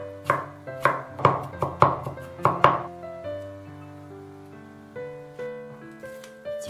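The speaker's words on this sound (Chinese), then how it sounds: "切点蒜末" A knife chops garlic on a board in a home kitchen, about eight crisp, evenly spaced strikes, close and loud, followed by a few seconds of soft music with no more chopping.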